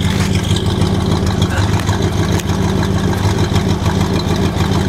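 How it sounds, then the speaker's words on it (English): A 1974 Dodge engine idles steadily just after a cold start, recorded close at the exhaust as a loud, continuous low rumble without pause. "Get you a little bit of an exhaust shot here."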